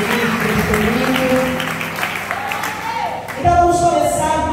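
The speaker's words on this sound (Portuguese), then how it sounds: "Aplauda ao Senhor por isso." Applause from a church congregation at a women's worship service, a steady broadband clatter that carries on under voices and swells briefly near the end.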